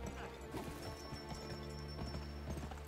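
Horse hooves in the western video game Gun: steady clip-clopping at a trotting rhythm under a constant layer of game music and ambience, moderately close.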